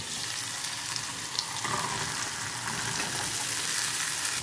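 Chickpeas tipped into a spice paste already cooked down in a pan, with a loud, steady frying sizzle and hiss running throughout and a brief burst of stirring partway through.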